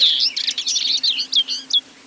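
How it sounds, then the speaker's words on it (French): Birds chirp and sing in open countryside heathland with flowering broom, with skylark, bullfinch and turtle dove among the species present; a busy stream of bright, high chirps and trills, close and clear, with no talk. "les oiseaux sont bien là"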